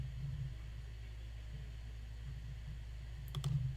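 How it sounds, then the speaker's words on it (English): A few quick computer mouse clicks land close together near the end, faint against a steady low electrical hum in a quiet lecture setting. "And I apologize for the clicking around a bit."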